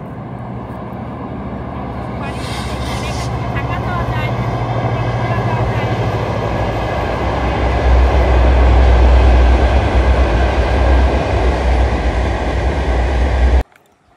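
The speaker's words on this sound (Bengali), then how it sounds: "সামনেই হলো রেল রাস্তা, রেল আসতেছে" A train approaches on a railway line near a village market, its low heavy rumble swelling steadily louder and closer for over thirteen seconds before cutting off abruptly.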